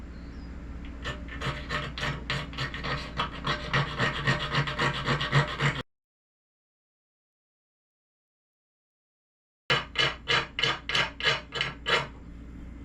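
A knife blade scrapes a magnesium fire starter into a pile of shavings, heard as a close run of quick, regular rasping strokes, a pause of silence, then a second burst of about eight distinct scrapes.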